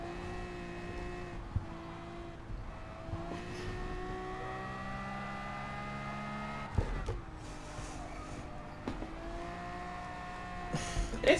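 A vintage Ferrari race car in the GT Sport video game on the old Le Mans layout holds a steady engine note, with several distinct gear changes as it accelerates and eases back.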